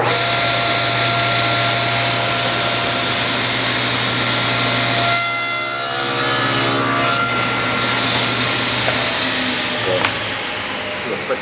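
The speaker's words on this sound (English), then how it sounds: "Put the power on, let the saw wake up." A power saw runs steadily while cutting a groove in wood, a loud close whine and rasp with a pitch dip partway through as the blade bites, then sustained cutting noise to the end.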